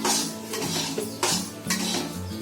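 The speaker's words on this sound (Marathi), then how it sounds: "थोडा तिल लोकांना थोडा कलर येईपर्यंत भाजून घ्यायचं. आणि सारखं ढवळतच राहायचं आहे ना मावशी" A spoon scrapes and clinks against a pan while sesame seeds roast inside, a run of close metallic strokes and clatters in an uneven rhythm over a low background hum.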